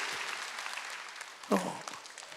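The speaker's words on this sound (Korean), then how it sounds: "박수 좀 쳐줘요." A church congregation at a Sunday worship service claps for an elder asked to stand, a soft, steady patter of many hands at moderate distance, with a voice briefly cutting in partway through.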